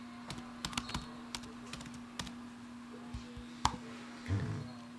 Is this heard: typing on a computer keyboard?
yes